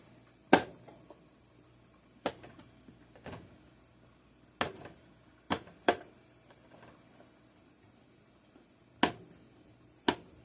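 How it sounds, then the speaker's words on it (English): Sharp knife chops through washed mushrooms on a cutting board in a home kitchen, a sparse series of crisp, isolated thunks spaced a second or two apart, close and clear with quiet pauses between cuts. "Okay, we're going to cut up some mushrooms."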